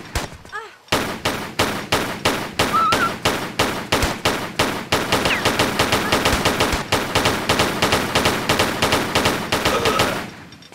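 Rapid gunfire from enemy soldiers in the South Pacific level of the video game Tomb Raider 3, a steady loud stream of sharp automatic shots repeating for about ten seconds with no talk over it.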